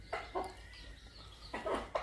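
A mother hen clucks softly while feeding her chicks, a few short clucks in two bursts with quiet pauses between, fairly faint and close by.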